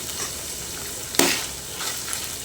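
Goat kidney and liver fry in a pan with garam masala paste, a steady soft sizzle running throughout and one brief louder scrape of stirring near the middle.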